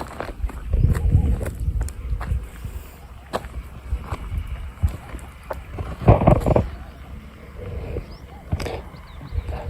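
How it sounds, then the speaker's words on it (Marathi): Outdoor wind buffeting the microphone on a day when rain weather is suddenly setting in, with low rumbling gusts that swell and fade over ten seconds and a few brief knocks. "हवेचाच आवाज राहतो. हवा जास्त जोरात चालू राहते."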